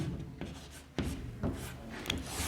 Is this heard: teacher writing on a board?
yes